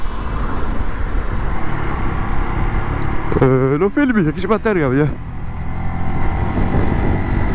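A Junak M12 Vintage motorcycle being ridden, with a steady engine drone and wind rush throughout and someone speaking briefly over it in the middle.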